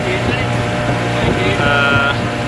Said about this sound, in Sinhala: ගේගිරි පාක් එකේ බෝට් රයිඩ් එකක් යන ගමන් ඉන්නේ